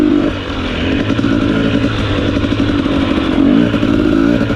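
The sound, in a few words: 2021 KTM 250 XC TPI dirt bike riding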